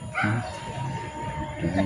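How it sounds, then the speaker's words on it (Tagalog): Dogs barking and yipping at moderate distance, a few short yelps and whimpers scattered over faint background murmur. "Tulig na ako sa katataw ng mga aso."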